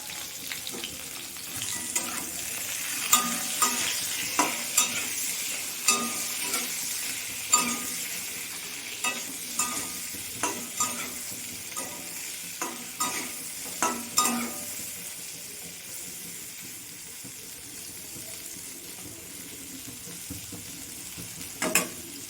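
Ridge gourd and fish frying in a pan with a little turmeric, a steady close sizzle broken by regular scrapes and clinks of a stirring spatula that fade toward the end.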